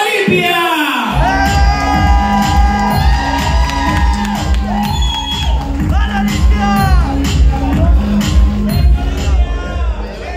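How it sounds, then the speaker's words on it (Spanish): Loud live crowd at a drag performance show cheering, whooping and shouting over a pounding dance beat, sustained and dense throughout with voices rising above the music. "Recibamos con un fuerte aplauso a nada más y nada menos que ¡Olympia!"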